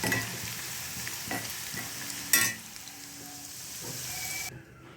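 Pakoda fritters from leftover bhajji batter fry in oil for pakoda kurma, a close, even sizzle with intermittent stirring scrapes and one sharp metallic clink before the sound abruptly drops away.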